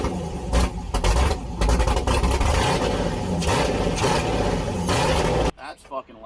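Turbocharged LS V8 swapped into a Mazda Miata runs loud and close, a dense steady engine roar that cuts off abruptly near the end, with a voice speaking over it.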